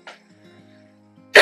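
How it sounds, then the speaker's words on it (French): A single short cough bursts out, then a second cough comes at the end. Both are close and loud against a quiet room with a faint steady electric fan hum. "Je tousse un peu."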